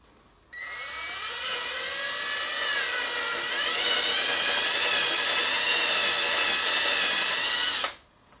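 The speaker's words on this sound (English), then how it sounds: "we're going to drill a hole in the end of our walnut bar here, one in each end" A power drill bores a 3/16 inch hole into the end of a walnut bar, a steady whining drone that starts abruptly, rises slightly in pitch as the bit bites, then cuts off after about seven seconds.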